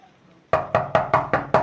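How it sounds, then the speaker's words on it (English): Someone knocks on a door six times in an even, rapid run, each knock loud and close, after a brief near-silent pause. "Who is there?"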